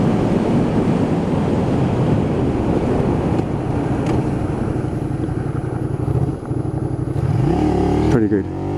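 A Honda VTR250 motorcycle brakes hard to a fast stop, its engine and wind roar holding steady and then sagging as it slows, with shifting engine tones near the end.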